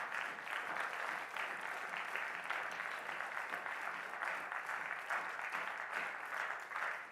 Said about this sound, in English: let's give Dr. Nash a round of applause and say thank you